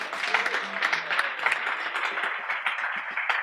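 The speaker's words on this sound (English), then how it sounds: "Let's give them a big round of applause." Audience applause for Sam Blakeslee's band Wistful Thinking at the Bop Stop, a steady dense wash of clapping holding at even loudness throughout, with faint voices beneath.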